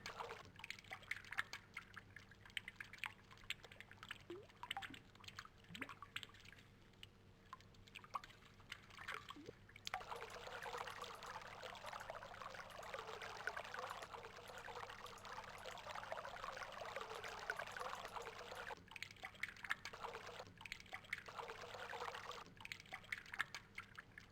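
Water is drawn upward by a pump mechanism in the Myst puzzle game, a steady faint trickling and pouring flow that swells louder midway, then eases and returns in uneven surges.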